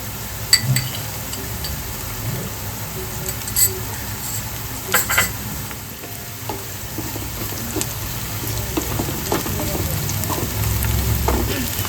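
Chopped green chillies for doi chicken fry in a pan with a continuous low sizzle, broken by repeated spatula scrapes and clinks against the pan.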